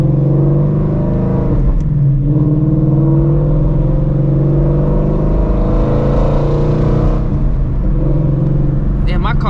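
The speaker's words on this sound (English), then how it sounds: "You switch over to the track mode so we get the loud exhaust" Loud, steady exhaust rumble from a Shelby GT350 Mustang switched into track mode, droning continuously at close range during a night-time drive, with a slight rise and fall in pitch.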